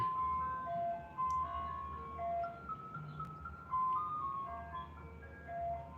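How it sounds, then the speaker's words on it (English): An ice cream truck jingle plays continuously as a tinkling, melodic chime tune, moderately loud over low rumbling background noise throughout. "You gonna grab something from the ice cream truck?"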